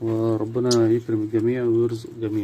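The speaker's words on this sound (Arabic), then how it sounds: "اليمام جميل ومريح نفسيا" Doves coo steadily in a group flock enclosure, a close, loud, rolling coo repeated in several phrases while someone speaks over them.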